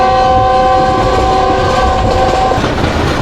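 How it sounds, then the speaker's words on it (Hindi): The Khushhal Khan Khatak Express passenger train passing over the GT Road near Peshawar, with a loud sustained horn blast over constant heavy rumbling and rail noise, close and continuous. "ट्रेन अभी हमारी GT रोड के ऊपर से गुजर रही है"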